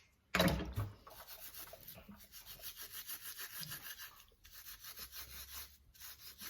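Mussel shells being scrubbed with a scourer, a steady rasping, rubbing friction close by, continuous with rhythmic strokes after a sharp start, with no voices.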